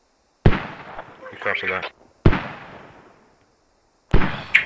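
Mortar artillery shells burst one after another in the video game Squad, three sharp blasts with decaying rumbles, while a voice speaks briefly between them.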